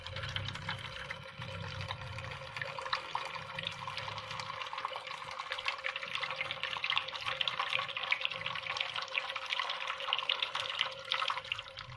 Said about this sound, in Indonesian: Pertama kali kita bilas dulu dengan air biasa, air keran yang mengalir.